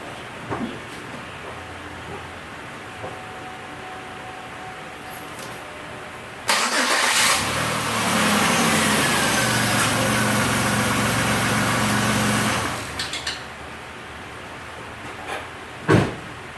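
A 2003 Chevy Impala engine cranks and catches, then settles into a steady, loud idle for about six seconds before cutting off, with quieter workshop clatter on either side.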